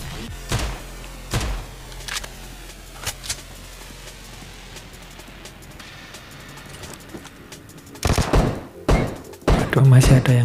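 Gunfire in the battle-royale game PUBG, several sharp shots and short bursts, loudest near the end, over quieter in-game ambience with a voice talking now and then.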